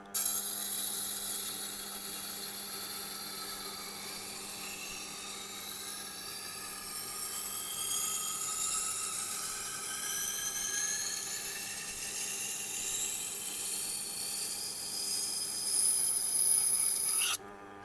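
A kitchen knife drawn across a Blackstone sharpener in one continuous pass, a close, even high-pitched grinding whir with a sweeping rasp that rises and ends with an abrupt stop.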